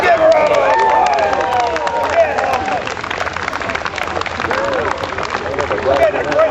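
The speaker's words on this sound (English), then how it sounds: "Let's give her a round of applause." Outdoor spectators applaud and cheer after a reproduction 19th-century cannon is fired by a riverbank, the clapping and crowd noise mixed with steady talk throughout.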